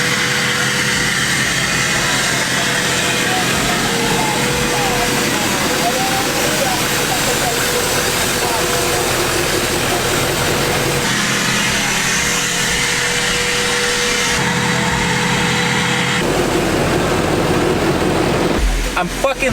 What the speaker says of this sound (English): Right now we're going to take his truck out and see how it rips.